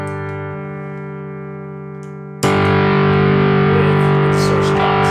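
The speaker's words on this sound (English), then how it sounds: "So I chose to use this, one of my favorite distortion pedals, which is the LPD 87." Electric guitar run through an LPD 87 distortion pedal into a Neunaber Neuron preamp with cab-sim, first a sustained clean-toned chord ringing out, then a loud, dense burst of saturated distorted strumming.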